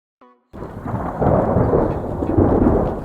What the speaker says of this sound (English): The rain poured harder, thunder rumbling in the distance.